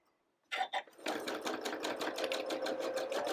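A sewing machine stitching a Hopscotch quilt block, a few separate stitches and then a steady, rapid mechanical chatter running close and fairly quiet.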